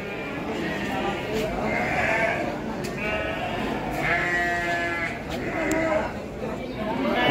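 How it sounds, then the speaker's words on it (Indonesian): Garut fighting sheep with mature horns, around six months old, bleat repeatedly at a busy livestock market, their wavering calls rising over steady crowd chatter and people talking nearby. "domba Garut tangkas"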